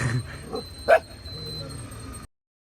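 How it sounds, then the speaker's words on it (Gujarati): A single sharp dog bark close by, with soft rustling before and after it. "અમે કૂતરો છે, ડોગ છે"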